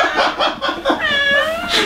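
A cat lets out a drawn-out, wavering meow close by, preceded by a few short squeaky vocal sounds.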